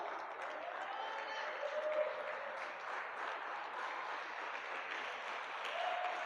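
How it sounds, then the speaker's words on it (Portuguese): Applause from a church congregation during a teaching service, a steady wash of many hands clapping at moderate volume that holds throughout, with faint voices underneath. "For aplaudir, aplauda forte"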